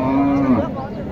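A four-tooth Sahiwal-desi cross cow at the Mataji cattle market in Naogaon lets out one loud, close moo that rises and then trails off.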